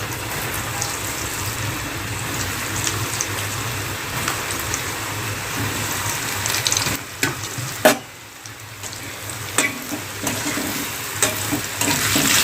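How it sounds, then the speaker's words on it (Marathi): Potato pieces fry in hot oil with a loud, dense crackle and sizzle, broken by a few clacks and a short dip before the bubbling picks up again. "तर आता आपण तेलामध्ये लगेच हे सोडूया. तेलामध्ये आपल्याला चांगले फ्राय करून घ्यायचे आहे."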